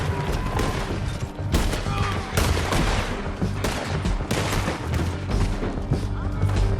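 Rapid gunfire in a Red Dead Redemption 2 shootout, dense overlapping rifle and pistol shots crackling close and loud throughout, with shouting voices mixed in.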